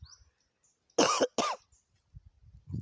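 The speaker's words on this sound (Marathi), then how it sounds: "तर मित्रांनो खोकला आला थोडासा" Two sharp coughs close together, loud and near, with quiet stretches and faint rustling before and after.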